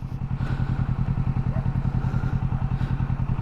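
Motorcycle engine idling low and picking up revs during a slow U-turn, with a steady rapid thumping pulse that stays close and even throughout.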